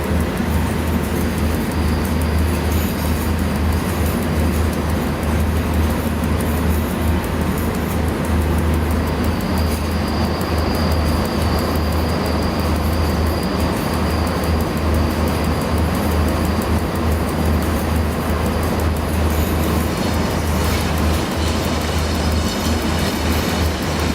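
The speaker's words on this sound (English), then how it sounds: "How long is this blinking train?" Steady loud rumble of a train running in the SimRail simulator game, continuous low-pitched rolling and wheel noise with a faint high whine partway through, close and unbroken for the whole stretch.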